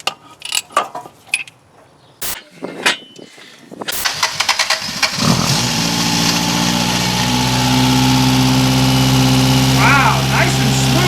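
A 1978 Toyota Corolla engine fitted with Holley Sniper EFI cranks with scattered clunks and clicks, then catches and settles into a loud, smooth, even idle that holds steadily to the end.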